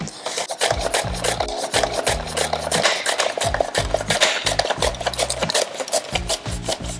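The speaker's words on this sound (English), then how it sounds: "put the onion in the wee hole here, put the safety guard on, slam it down, just like that" An onion is forced through a vegetable chopper with a safety guard, giving repeated rasping, scraping strokes in an irregular rhythm, close and fairly loud, with a low rumbling pulse under each push.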